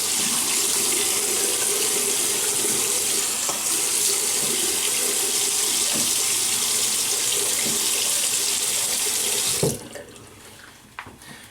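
Tap water runs steadily into a sink for about ten seconds while a face is wetted before a wet shave, a loud continuous splash that cuts off abruptly, followed by a few faint drips and handling sounds.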